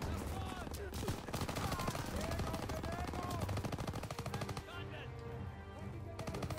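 Machine gun fire rattles in dense, rapid bursts in the World War II shooter Call of Duty WW2, mixed with scattered battlefield shots and shouted voices. The whole scene is quiet in level.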